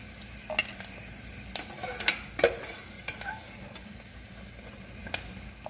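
Meat and pieces frying in ghee in a pan over a low flame for a mutton pulao, a steady soft sizzle broken by a few sharp scrapes and clinks of a spoon stirring, with no talk.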